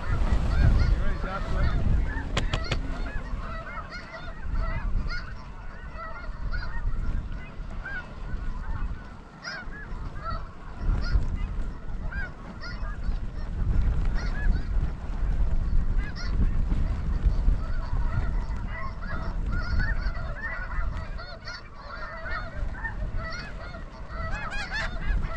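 A large flock of snow geese honking and calling continuously in blustery, windy conditions during a goose hunt over decoys, a dense chorus of overlapping honks at moderate distance with wind noise underneath.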